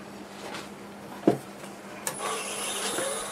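A segmented padauk vase turns on a wood lathe as a tool shapes the top rings, giving a steady scraping rub with a low hum, a sharp tick partway and a brighter hiss toward the end.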